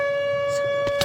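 The Siren Head creature's siren call in Minecraft: a loud, steady siren-like tone holds throughout, and brief rustling noises come in near the end.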